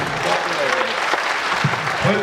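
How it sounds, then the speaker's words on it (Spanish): An audience applauds at a public talk and award presentation in Colombia, a steady, dense clapping that fills the whole span, with a speaker's voice faintly heard underneath. "Fuerte el aplauso para Julio Ernesto Gómez"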